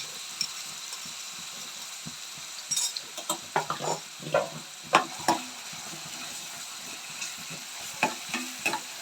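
Fried onion and ground masala paste being stirred in a pan for a jackfruit curry, with quiet background frying and a series of scraping, clattering spoon strokes against the metal at irregular intervals.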